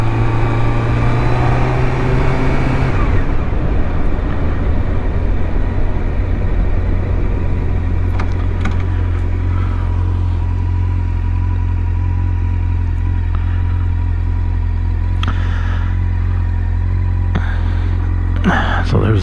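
A 2005 Triumph Daytona 650 motorcycle on a test ride, its engine running as a steady loud drone throughout, with a brief higher revving note at the start and wind buffeting over the ride.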